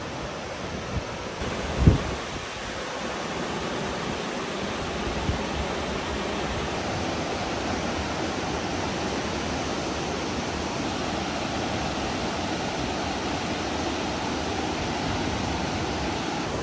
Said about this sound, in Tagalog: Mukhang malakas ngayong agos sa ilog ngayon ah.